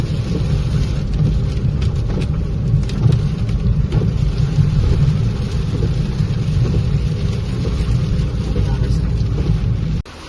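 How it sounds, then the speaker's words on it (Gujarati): Heavy rain pours down in a loud, dense, unbroken roar that stays steady throughout. "હા તો વરસાદ તો જુઓ"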